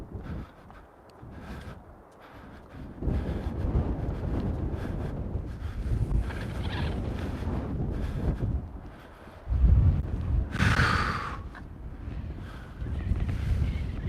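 Outdoor wind gusting against a microphone, a low rumbling buffet that comes and goes in surges, fairly loud and close, with brief quieter lulls between gusts.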